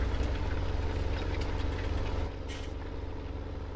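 Heavy farm tractor engine in Farming Simulator 17 straining at maximum RPM while pulling hard through dirt, a loud steady low drone that drops slightly in level partway through, with no talking.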